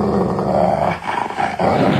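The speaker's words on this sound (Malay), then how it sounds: "Anjing ni nampak macam garang je ni." A dog growls low and rough in a single sustained rumble, close and loud, dipping briefly in the middle before resuming.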